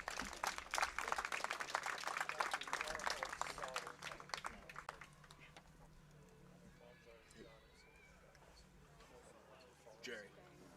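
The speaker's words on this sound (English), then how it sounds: "Please give our seniors one last round of applause." A crowd at a girls' softball game applauds the seniors, a scattered, moderately distant clatter of clapping that fades after a few seconds, with voices and an announcer heard under and after it.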